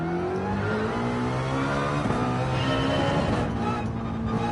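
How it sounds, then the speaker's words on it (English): A race car engine in Gran Turismo 7 climbing and dropping through gears in a steady whine, continuous at moderate level with no talk over it. "I hear an engine. That's a start."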